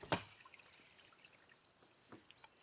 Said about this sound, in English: And I will turn off the pond, the skimmer, and the waterfall